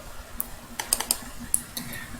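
Sharp, separate clicks at a computer while plotting straight-line segments of a running trail on a map, a handful of quiet taps spaced irregularly over a faint background hiss, with no talking.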